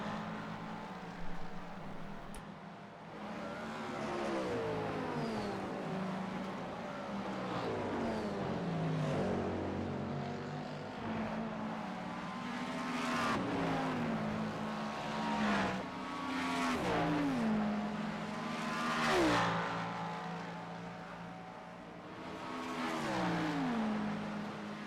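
Sprint race cars, including a BMW, in a racing video game: high-revving engines whine and rise and fall in pitch as several cars pass and shift gears, a continuous layered roar over about twenty-five seconds.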